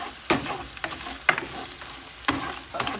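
Breakfast sausage sizzles in a frying pan, with a steady close crackle broken by several sharp scraping stirs spaced about half a second apart.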